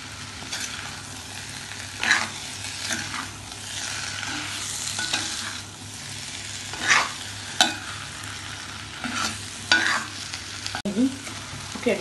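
Meat and other ingredients for an Arabic beef stew frying in a pot, with a continuous sizzle and intermittent scraping stirs at close range.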